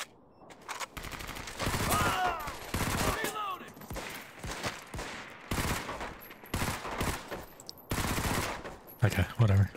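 Bursts of gunfire in the World War II shooter Medal of Honor: Vanguard, with repeated loud volleys and automatic fire coming in waves over about ten seconds, mixed with game voices.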